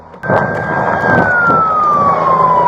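A police siren wails, rising in loudly and holding a long, slowly falling tone over the rumble of a nearby vehicle.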